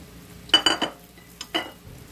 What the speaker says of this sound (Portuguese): Aqui tá espumando cada manteiga, que é normal, né? Não clarifiquei a manteiga,